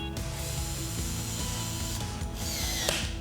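Steady, dense ratcheting from a hand wrench tightening the bolts of a Husky 7000 HD coupling toward 80 inch-pounds, its rapid clicks continuous and close through the whole span with no talk.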